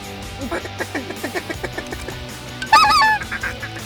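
Specklebelly (white-fronted) geese honk repeatedly in a rhythmic series of calls in a Delta duck-hunting setting, with a louder, closer honking burst near the end.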